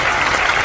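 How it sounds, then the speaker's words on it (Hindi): An audience at a Hindi comedy poetry show (kavi sammelan) claps, a loud, close burst of dense applause lasting under a second. "एक बार ताली बजाकर"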